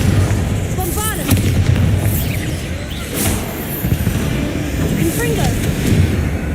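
A Bombardum spell explosion in Hogwarts Legacy, fought amid spiders, with repeated heavy booms and blasts over a dense rumbling combat bed, a loud hit around the middle and further impacts throughout.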